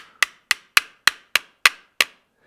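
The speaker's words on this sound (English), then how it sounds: "Take my hammer," A hammer taps a pin into a Glock pistol slide with seven sharp metallic strikes at a steady, unhurried pace, each ringing briefly before the next, close and clear with no talking.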